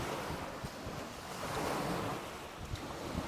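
Waves wash onto the Lake Ontario shoreline at Marie Curtis Park in spring, a steady rushing surf with wind noise on the microphone and no voices.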